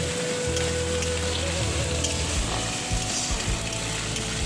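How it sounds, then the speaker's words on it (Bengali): Fish curry cooking in a pan with onion and tomato, giving a steady, close, rain-like sizzle and crackle of frying that continues unbroken and alone, with no voices. "সেখানে পেঁয়াজ টমেটো দিয়ে ঝালটা করছি"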